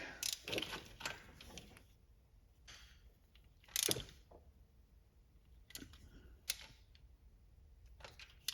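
A torque wrench tightening exhaust manifold bolts on a GMC 5.3 V8, sharp mechanical clicks and ratcheting bursts spaced a few seconds apart, close and fairly faint, with no speech.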